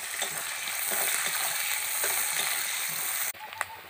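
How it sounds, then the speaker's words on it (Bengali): Two large onions frying lightly in hot oil with whole dried chillies and garam masala, a dense close sizzle with stirring, cutting off abruptly near the end, followed by a quieter moment and a faint clink. "পেঁয়াজগুলো দিয়ে দিলাম, হালকা করে ভেজে নেব।"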